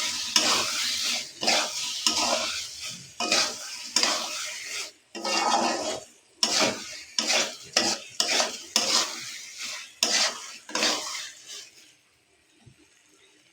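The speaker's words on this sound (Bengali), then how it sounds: "সুন্দর করে ডাল আর চালটা কষাই দিব।" Lentils and rice being stir-fried in a pot for beef bhuna khichuri, with repeated rhythmic scraping strokes of a spoon against the pan over a soft sizzle, loud and close, ending in quiet.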